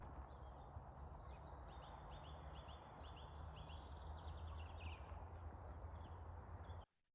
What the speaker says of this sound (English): There's mountain views, it's sunny, the birds are chirping.